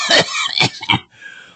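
A person coughs close up in three rough, harsh bursts, then gives a softer, raspy trailing breath.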